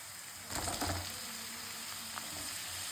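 Onion and tomato frying in a pan, a steady hiss of sizzling with a few stirring scrapes near the start, close and alone.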